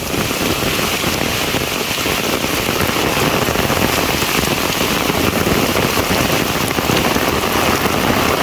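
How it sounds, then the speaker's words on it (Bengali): Heavy monsoon downpour drums steadily on surfaces in a village, a dense, loud, unbroken roar of rain with no voices throughout. "এত জোরে বৃষ্টি হইতেছে আল্লাহ"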